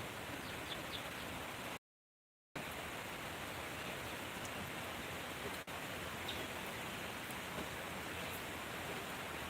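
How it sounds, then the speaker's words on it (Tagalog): Rain falls steadily outdoors as a soft, even hiss, faint and unbroken apart from a brief dropout, with no voices. "Umuulan ngayon dito."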